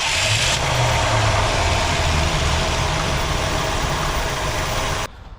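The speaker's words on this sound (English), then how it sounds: "I just turned the ignition on, and now let's turn it over and hopefully she'll run" Abandoned 1967 Ford Galaxie 500 turning over and running, a loud, dense, rough engine roar held steady for about five seconds before cutting off abruptly, close to the car with no talking.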